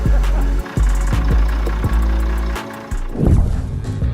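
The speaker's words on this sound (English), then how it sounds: "And now its engine miraculously cranking back to life." The engine of a 1976 Mack truck, found abandoned and revived, cranks and turns over in loud, close, uneven pulses before catching and running roughly.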